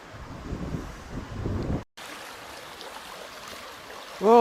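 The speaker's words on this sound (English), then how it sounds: "There's a lot of water going down there." A swollen river after heavy rain rushes past in a steady broadband roar, briefly cut by a short gap, then continues before a voice starts at the very end.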